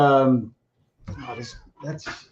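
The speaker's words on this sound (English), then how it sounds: "If you hear a cat in the background," A cat gives a clear, drawn-out meow, and then people talk after a short pause.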